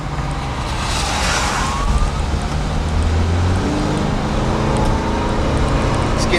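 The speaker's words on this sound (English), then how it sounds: "Creepiest tornado sirens ever" Tornado sirens wail steadily during a tornado outbreak near Wheatfield, Indiana, a long rising and falling tone sounding distant under continuous wind and vehicle noise, with no talking.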